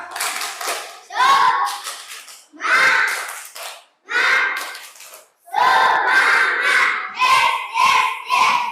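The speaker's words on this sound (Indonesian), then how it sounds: "Kita bersama-sama tepuk semangat dulu biar diskusinya tambah semangat." Indonesian classroom group performing the rhythmic tepuk semangat routine: bursts of patterned clapping mixed with shouted chants from many voices, in loud close segments separated by short pauses.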